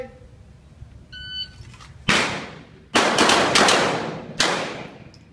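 At a pistol shooting competition, a short electronic timer beep is followed by four loud, sharp pistol shots fired in quick succession, each with a trailing echo.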